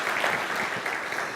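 An audience at an evening science talk applauds the speaker, a dense, steady wash of clapping that holds at an even level for the whole short stretch.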